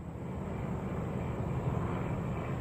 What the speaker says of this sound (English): That's a helicopter, y'all.